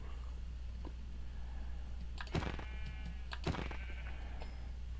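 Sheep bleating in the video game Minecraft, two short bleats a second apart over a steady low background hum, with no talking.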